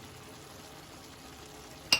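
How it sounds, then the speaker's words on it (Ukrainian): Steady soft sizzle of zucchini spread with tomato paste frying in a pan, a low continuous hiss, ending with a sharp metallic clink. "поки смажиться наша кабачкова ікра"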